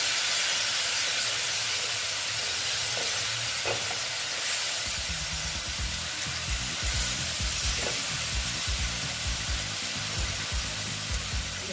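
Catla fish curry masala being sautéed in a pan gives a continuous steady sizzle and hiss with occasional soft stirring taps, close and even, with no talking.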